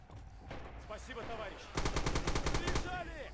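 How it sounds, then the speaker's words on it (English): Machine gun and rifle fire in the Red Orchestra 2 World War II shooter, scattered shots early, then a rapid, evenly spaced automatic burst in the second half, loud and close. "This machine gunner just got shot by someone."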